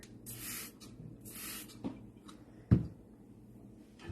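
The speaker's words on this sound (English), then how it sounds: "I'm going to go ahead and just give it a couple sprays right here." BioZyme cleaner is sprayed onto dishes in two quick, hissing bursts from a trigger bottle. A couple of soft clicks and knocks follow in a quiet room.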